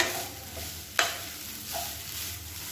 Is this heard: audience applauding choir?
no